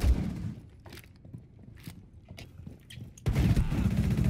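Gunfire in the video game Rainbow Six, a few sharp scattered shots and thuds over a dull low rumble, ending in a louder dense burst of noise.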